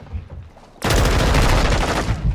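Heavy automatic gunfire from the video game Call of Duty Modern Warfare 2 erupts after a quiet moment and keeps up as a loud, dense burst with no break to the end.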